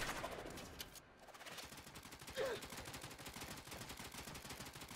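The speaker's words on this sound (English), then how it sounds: "the secondary fire mode is launching a disc and shooting whatever ammo it has" Disc launch and rapid shots from the Azima secondary fire in Warframe, a fast, even stream of sharp gunfire pops running the full length, with a brief whoosh near the start.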